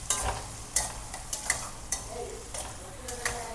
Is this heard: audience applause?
no